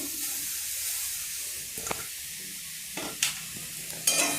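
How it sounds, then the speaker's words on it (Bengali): Grated coconut is stirred in a hot kadai, giving a soft continuous hiss with a few sharp scraping strokes of the spatula against the pan, close and unaccompanied by talk. "দেওয়ার পরে নাড়তে হবে, না হলে নারকেল কড়ায় লেগে যাবে।"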